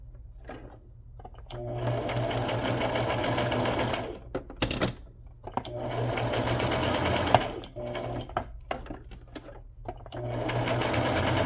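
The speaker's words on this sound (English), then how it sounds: "Do a straight stitch along that corner." Sewing machine running straight stitches while making window pockets and tucks, steady mechanical whirring in long runs broken by short pauses and clicks, close and clear.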